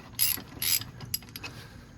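A 1/2 inch ratchet loosening a bolt on the front brake assembly of a 1992-99 GMC/Chevrolet Suburban, giving two short, loud bursts of clicking near the start followed by a few fainter ticks, close by with no talk.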